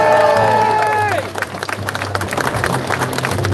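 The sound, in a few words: protest crowd applause and cheering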